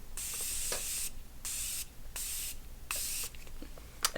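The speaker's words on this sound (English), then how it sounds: "Now just a little Morphe setting spray." Morphe makeup setting spray misted from a pump bottle in four short, even bursts with brief pauses between, close and hissing.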